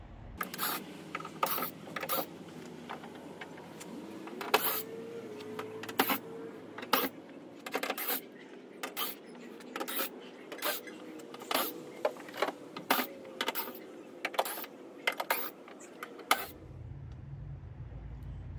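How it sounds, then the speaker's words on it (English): Tailgate screws on a third-generation Toyota Tacoma being backed out with a T30 star bit: a close run of short, sharp scraping clicks and rasps in an irregular rhythm, with no one talking. "it takes a T30 star bit to take these screws out. So I'm gonna go ahead and start taking them out."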